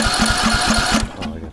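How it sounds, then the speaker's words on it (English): A Briggs & Stratton Intek 17.5 engine on a tractor cranks with a quick, regular chugging rhythm as it is bump-started with a screwdriver, then the cranking cuts off abruptly. "I'm gonna just bump start it with the screwdriver, because I'm not gonna sit on the tractor."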